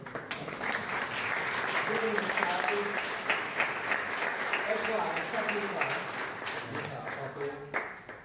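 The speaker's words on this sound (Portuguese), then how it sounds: "eu queria pedir um aplauso para o Bernardo Gonçalves" Audience applause at a book launch for a liberal-themed book, steady dense clapping from a crowd that holds for about eight seconds, with some voices murmuring underneath.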